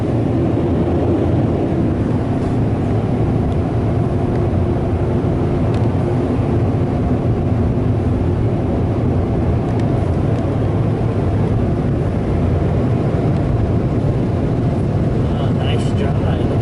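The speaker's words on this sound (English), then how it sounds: "Oh, there goes the dryer." A Ryko Softgloss Maxx 5 car wash dryer at a gas station blows with a loud, steady roar from start to finish, while people talk beneath it.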